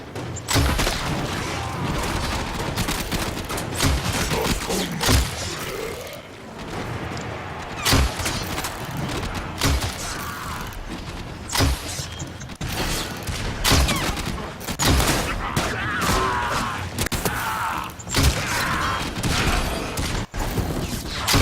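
Gunfire in the video game Warframe comes as dense, rapid bursts and repeated shots with occasional thuds and booms, loud and continuous throughout.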